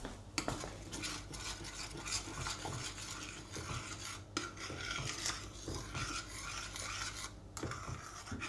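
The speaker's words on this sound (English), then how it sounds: "I need to stir the soup." A spoon scraping and stirring soup in a metal pot, a steady rough rasping that continues throughout with a few sharper clinks, close by and fairly quiet.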